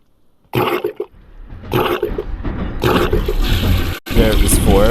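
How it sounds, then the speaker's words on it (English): A toilet flushes in a VR game, first in short whooshing bursts of rushing water, then as a sustained loud roar of draining water. "So it'll flush once it's unclogged."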